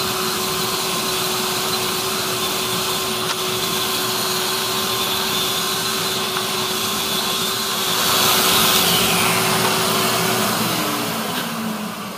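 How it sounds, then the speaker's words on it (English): Festool Rotex sander with a dust extraction hose attached runs steadily on wood, a continuous close whir with an air cleaner running nearby, swelling briefly louder near the end; no talking. "Festool sander here. It's the Rotex sander, and we have a hose hooked up to it."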